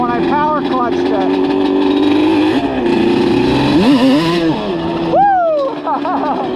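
A Yamaha Banshee 350 two-stroke engine holds a loud, buzzing drone close by, surging as it is power-clutched, while someone talks and whoops over it.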